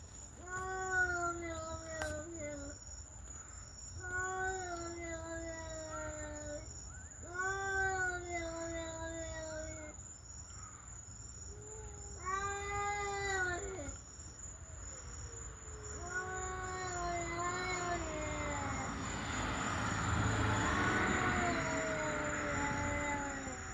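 A cat gives long, wavering, rising-and-falling yowls, roughly six drawn-out caterwauls spaced a few seconds apart. A steady high insect or cricket whine runs underneath, and the last cries grow harsher and noisier.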